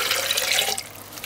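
Water poured for blending shredded coconut, a short steady broadband rush of running liquid that fades out after about a second.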